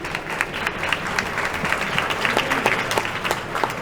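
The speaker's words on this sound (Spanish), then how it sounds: "Pido un aplauso para Judith." An audience at a book fair claps in a loose, uneven patter, individual claps standing out against a moderate room background for a few seconds.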